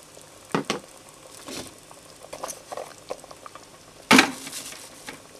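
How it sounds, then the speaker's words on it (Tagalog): A pot of pork sinigang with eggplant and string beans simmers on the stove, giving a soft, steady bubbling patter with a few louder clinks and clatters, one sharp burst near the end. "Lagyan po natin ng cover at simmer ulit natin hanggang sa lumambot na yung mga gulay."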